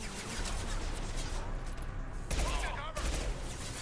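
Rapid bursts of gunfire from a ranged weapon in the video game Mass Effect 2, loud and continuous across the moment, with a brief lull in the middle before firing resumes.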